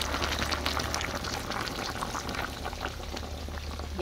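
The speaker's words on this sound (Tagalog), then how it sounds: "At ngayon, ilagay na natin yung papanggata." Coconut milk pours into a pot of shrimp, crab and jackfruit for ginataang hipon, a steady, bubbling gush with a low simmering hiss underneath, close and continuous, with no talk.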